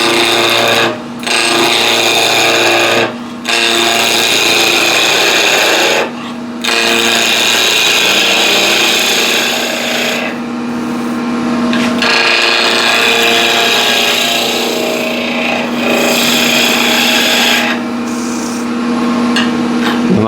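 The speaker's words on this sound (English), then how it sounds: "1700 RPM, and I'll rough this down to a cylinder using a 1-inch skew" A 1-inch skew chisel roughs a spinning blank of Red Heart wood down to a cylinder on a wood lathe running at 1700 RPM. Loud, continuous rasping cuts are broken by several brief pauses, and no voices are heard.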